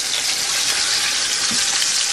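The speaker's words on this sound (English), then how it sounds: "So the pan is perfect because you hear that sizzling? Exactly what we need to brown these." Steady, loud sizzling of short ribs browning in a hot pan, a continuous crackling hiss with no talking.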